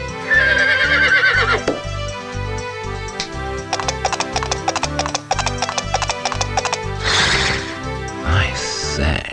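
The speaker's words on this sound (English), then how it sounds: "He wished for a horse." A horse neighs loudly in a whinny at the start of a mid-1990s interactive children's storybook, followed by rhythmic clip-clop hooves and playful synthesized sound effects.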